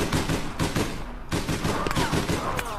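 Rapid gunfire in the online game APB Reloaded, a dense loud fusillade of overlapping shots that continues almost without pause.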